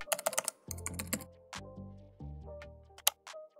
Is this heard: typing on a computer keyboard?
yes